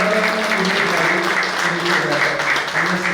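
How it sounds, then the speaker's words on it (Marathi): Audience at a CD release on an auspicious festival day bursts into steady, dense applause that holds loud and even throughout, with voices and some tonal sound mixed in underneath. "सगळ्यांनी मला वाटतं जरा जोरदार टाळ्या वाजवून"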